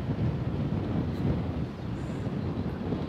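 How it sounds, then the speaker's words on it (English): Steady wind buffeting a microphone in the Champagne region of France, a continuous low rumbling roar with no pauses or voices. "oh, it's so windy"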